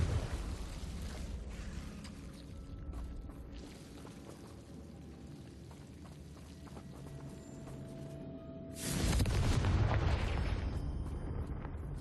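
A Confringo blasting spell goes off in Hogwarts Legacy on the Switch: quiet, murky game ambience, then a sudden loud broadband explosion that booms and slowly decays over the last few seconds.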